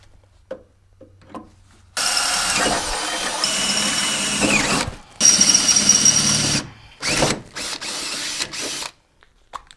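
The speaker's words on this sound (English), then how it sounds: "before we start drilling" A power drill whirs loudly in long bursts, biting through a 3rd Gen Toyota Tacoma truck bed during a bed stiffener install, then stops and starts again in shorter pulses; quiet handling noises come before it.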